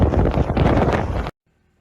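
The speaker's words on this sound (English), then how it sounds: "The wind blew away everything in its path." Blizzard wind roars loudly during a heavy snowstorm in Tromsø, Norway, a dense continuous gusting rush lasting about a second before cutting off abruptly to near silence.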